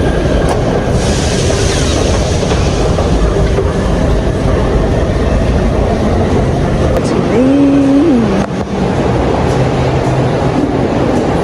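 A metro train runs through South Korea with a loud, steady rumble and rattle, and a brief metallic wheel squeal rises near the end.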